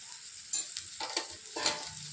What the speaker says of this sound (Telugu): ఇవన్నీ బాగా కలిపి 1 నిమిషం వేగాలి.